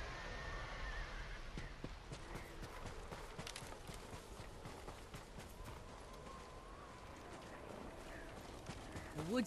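Horses whinny and snort with hooves clip-clopping nearby in the game Ghost of Tsushima, faint and intermittent over quiet ambient outdoor background.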